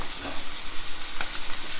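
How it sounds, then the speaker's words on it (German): Hare meat sears in a pan with a steady, close hiss of frying fat, even and continuous with no voices. "So, jetzt brate ich das Ganze an,"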